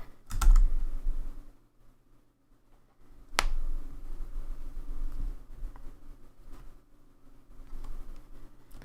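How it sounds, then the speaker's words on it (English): Computer keyboard typing picked up close by a desk microphone, with irregular clicks and key taps, a couple of sharp louder thumps, and stretches of steady keystrokes at moderate level. "is my keyboard hearable?"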